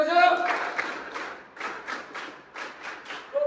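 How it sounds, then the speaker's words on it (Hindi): A class of students in an early-morning army-preparation session claps together on command in loose unison bursts, with a few separate rounds after a spoken instruction, and brief speech at the start and the end. "एक साथ ताली बजाओ"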